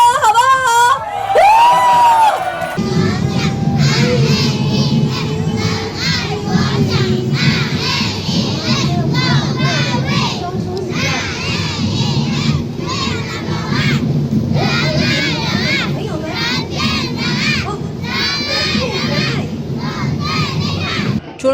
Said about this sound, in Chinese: 来一个尖叫声，好不好？